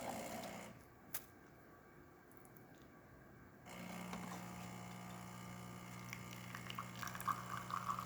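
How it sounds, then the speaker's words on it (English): Steady water stream running from a DeLonghi espresso machine after cleaning, a continuous soft hiss and trickle that starts partway through and keeps flowing evenly, with a brief click near the start. "steady stream coming out of the machine. Excellent flow, working great."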